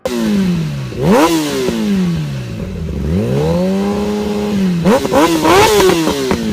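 A 2019 Kawasaki motorcycle engine revs hard close by, rising and falling through several loud throttle blips with no talking.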